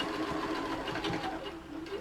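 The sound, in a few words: sewing machine stitching a bag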